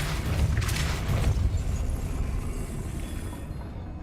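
A Depulso force spell cast in Hogwarts Legacy gives a loud, low, rumbling boom that swells and sustains for several seconds before thinning out, with no voices over it.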